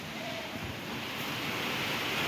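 Rain falls on a barn on a cold, rainy day at a small woodland farm, a soft, steady hiss of broadband patter that stays faint and even throughout with no voices.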